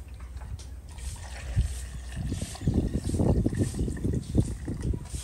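Water poured for making sour nance fruit juice, a steady liquid trickle and splash rising midway and continuing fairly close and moderately loud, with no talk over it.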